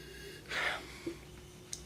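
A single quick, breathy sniff of wine up close, followed by a couple of tiny soft clicks in a quiet room.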